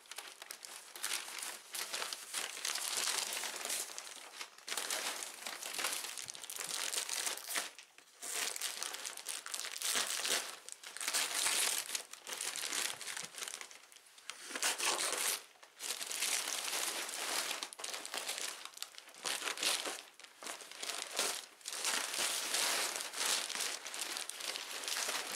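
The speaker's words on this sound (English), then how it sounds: "Let's completely unwrap it." Plastic packaging being unwrapped from a large Vanda orchid, continuous close crinkling and rustling with brief pauses, loud and alone throughout.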